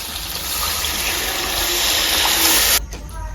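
Water pours steadily into a cooking pan of potatoes and palva beans frying in oil and chili on a gas stove, a loud continuous gushing hiss that stops abruptly near the end.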